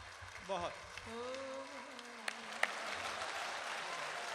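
Faint audience applause for a poet at a 2014 poetry gathering in Dubai, a soft, steady patter of clapping that runs beneath a voice and continues to the end.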